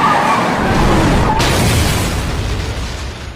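A car explodes in an anime scene after crashing into a pole, a loud, sustained rumbling blast that fills the whole clip and slowly fades, with no voices.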